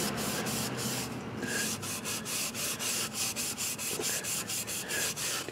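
Steady abrasive scraping strokes rasp against rusty metal on a mini lathe, close up and continuous with a rhythmic back-and-forth pulse and no talk.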